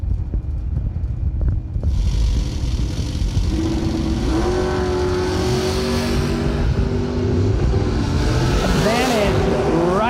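A Ford Mustang drag racing engine roars at a drag strip, rising in pitch as it accelerates hard and sweeps past. Brief loud revving is heard, with wind rush and a voice talking at the start.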